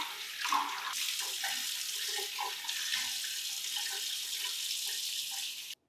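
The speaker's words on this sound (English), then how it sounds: "Always rinse with warm water" A tap runs steadily into a basin while someone rinses their face during a wet shave, a continuous close rushing hiss with small splashes, ending abruptly.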